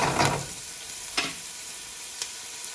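Pancetta hits a hot pan with a loud burst of frying sizzle, then settles into a softer steady hiss punctuated by a couple of brief stirring scrapes, close and alone.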